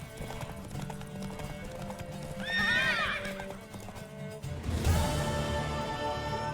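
Hoofbeats of a horse galloping in The Witcher 3 game, steady clip-clop under a whinny midway and another neigh near the end, over game music and ambience.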